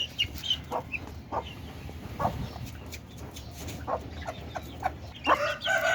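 Chickens cluck and call nearby in short bursts, with faint peeping from chicks and a few scattered outdoor noises.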